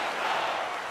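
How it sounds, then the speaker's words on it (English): Hockey arena crowd at a Flames versus Canucks playoff game, a dense, roaring wash of cheering voices that stays loud and steady through a brief moment. "You can feel the energy in this crowd"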